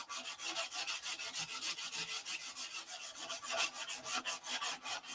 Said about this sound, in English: Instead of sitting here sanding